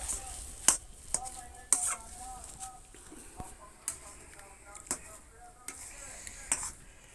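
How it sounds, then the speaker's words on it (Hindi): A spoon or spatula stirs salt into green pea paratha filling in a pan, giving a series of sharp clinks and scrapes against the metal at an uneven pace, with a low sizzle underneath. "इसके अच्छा सा मिला लेते हैं नमक के"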